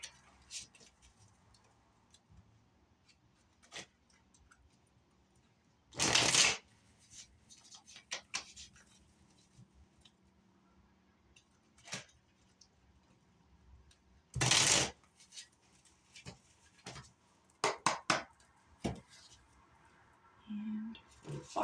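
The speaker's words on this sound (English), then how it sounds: "give them a good shuffle" A Shadowscapes tarot deck gets two firm riffle shuffles, each a dense rustling burst about a second long, with scattered card taps and faint clicks in the quiet between.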